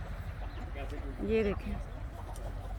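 Chickens and roosters on a farm give a few short clucks close by, mixed with a person speaking Hindi-Urdu over a low outdoor background.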